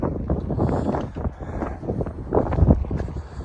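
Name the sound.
wind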